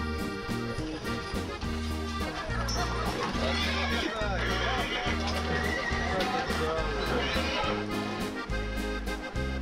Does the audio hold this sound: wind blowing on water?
no